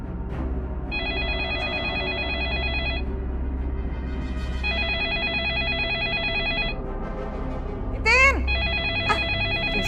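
A telephone rings indoors in repeated bright electronic bursts with short pauses between them, loud and steady over a low background hum, with a brief chirping sweep near the end.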